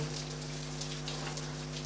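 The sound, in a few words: rain falling with wind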